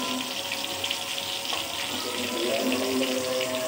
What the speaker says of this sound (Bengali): তেল গরম হয়ে গেছে, এখন আমি সব পেঁয়াজগুলো দিয়ে দেবো।